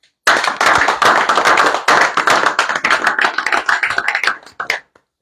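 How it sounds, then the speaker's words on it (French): An audience at a gathering claps loudly in dense applause that thins into scattered individual claps and stops before the end. "Et nous pouvons applaudir encore pour ça."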